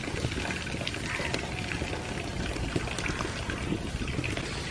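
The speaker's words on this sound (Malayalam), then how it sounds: "നമ്മുടെ പാത്രം അടുപ്പത്ത് തീ വെളിച്ചെണ്ണ ഒഴിക്കുന്നു കേട്ടോ." Coconut oil pours into a clay pot on a wood fire, a continuous sizzling, crackling hiss at moderate loudness with no talking.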